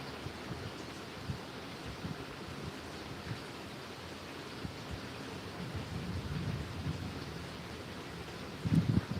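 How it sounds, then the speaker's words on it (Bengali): Heavy rain pours down steadily as a dense, continuous hiss, with a low rumble swelling near the end that may be thunder. "আমাদের এখানে প্রচণ্ড বৃষ্টি হচ্ছে"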